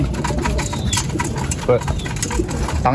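Racing pigeons cooing nearby amid a busy background with people talking and scattered bird sounds.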